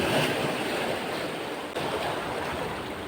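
Ocean surf breaking along the shoreline at a shore-casting fishing spot, a steady close roar of washing water filling the clip with no voices.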